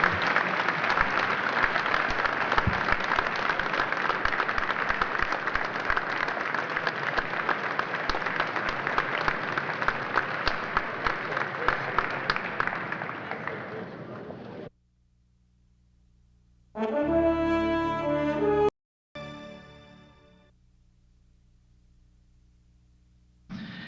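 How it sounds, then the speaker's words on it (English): A conference audience applauds its speakers with dense, sustained clapping for about fifteen seconds that fades out, followed by a stretch of quiet and a short burst of other sound. "One last round of applause for our speakers."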